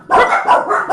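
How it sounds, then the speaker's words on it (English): Dachshunds barking indoors, a quick burst of two or three loud, close, sharp barks within a second. "I don't think we'll ever get our dogs to stop barking."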